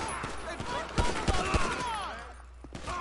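Gunfire in Grand Theft Auto V: several sharp close shots and a rattle of bursts over busy game noise and chatter, with a quieter stretch and one last shot near the end.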